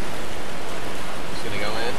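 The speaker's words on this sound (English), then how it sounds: "It's a gorgeous waterfall here. See how loud it is?" A loud waterfall in the survival video game Miscreated sends out a dense, steady rushing roar of falling water. The sound is close and constant, with faint higher splashes on top.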